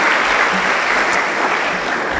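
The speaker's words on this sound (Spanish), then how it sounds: "La recibimos con un fuerte aplauso." Audience applause at a book presentation, a dense steady clatter of many hands clapping at full strength throughout the short stretch, with no voices over it.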